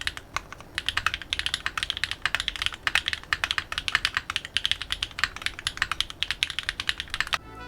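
Rapid, continuous typing on a mechanical keyboard with lubed Owlab Tungsten switches, each keystroke a crisp, deep, close clack in a fairly even rhythm with no talking.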